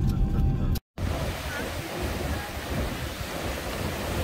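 Pacific Ocean surf breaking on the rocky coast of the Kuril Islands at twilight, a steady broadband roar of waves close by that fills the whole stretch after a brief gap, with no voices over it.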